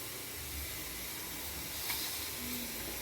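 Ragi kulapputtu, layered finger millet flour and grated coconut, steaming in a puttu maker: a steady, soft, even hiss of steam runs unbroken from start to finish, with no voices.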